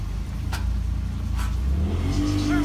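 A Yamaha jet boat engine revs up, a loud close roar that climbs steadily in pitch near the end with a couple of brief sharp clicks along the way.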